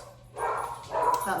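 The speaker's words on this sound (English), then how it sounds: "Sorry about my dog." A dog barks in a couple of short bursts close by, mixed with a person talking at the same time.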